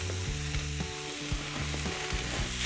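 Garlic and carrots sizzle in a hot pan, a loud close crackling hiss with rhythmic stirring scrapes every half second or so.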